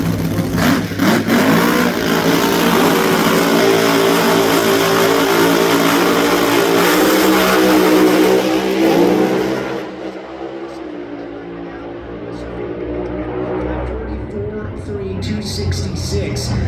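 NHRA Top Alcohol drag racing cars roaring down the strip at a Saturday night race, a loud sustained engine blast for most of the run that drops away, leaving a quieter rumble under an announcer's commentary.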